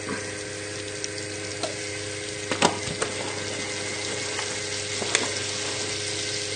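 Two dessert spoons of plain flour are stirred into a hot pan of vegetarian lasagne sauce base, giving a quiet continuous sizzle broken by scattered sharp clicks of a spoon scraping the pan.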